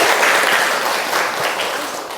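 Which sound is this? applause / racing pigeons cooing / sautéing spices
applause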